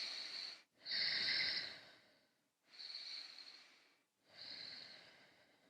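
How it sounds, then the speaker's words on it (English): Three slow, deep breaths taken during a circumferential breathing exercise in a holistic movement session, each a long airy hiss with soft nasal snorting, separated by brief quiet pauses, close and alone. "I'm going to start with the circumferential breathing."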